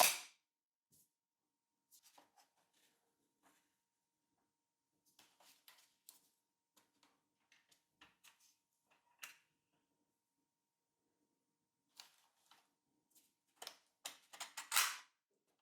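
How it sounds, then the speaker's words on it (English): A battery being inserted into a Panasonic HC-X1200 4K camcorder before it powers on, sparse soft clicks and snaps, then a cluster of sharper clicks near the end, otherwise near silence. "let's pop in the battery and fire up the camera"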